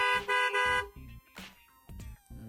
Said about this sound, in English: then 5 seconds later the vehicle horn kicks in